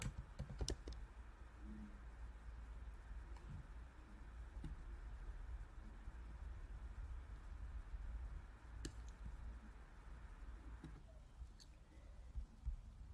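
Quiet typing on a computer keyboard while entering CSS code, with sparse, faint key clicks scattered over low background hum.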